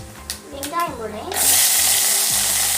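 Onion dropped into hot oil in a pan, bursting into a loud, steady sizzle that swells suddenly and holds, following a few light clatters and a brief voice.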